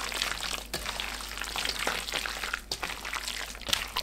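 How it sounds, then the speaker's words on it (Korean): Sesame seeds being mixed by hand into seasoned dried radish strips, a steady soft rustling and crackling like light frying, continuous at close range with a few sharper clicks and no talk. "깨 수북이 3큰술 넣고 섞어줍니다"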